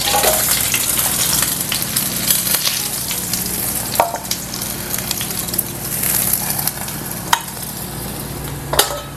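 Chicken pieces sizzle steadily in hot oil while being fried for Arabian chicken kabsa, a dense continuous crackle with occasional sharper pops and spatters, close and fairly loud, with no talking.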